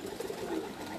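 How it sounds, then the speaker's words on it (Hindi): A pearl-marked pigeon gives a soft, brief coo, faint and close, a single short murmuring call. "ये भी जमील भाई की तरफ से आया है, मोतियों वाला कबूतर है माशाल्लाह"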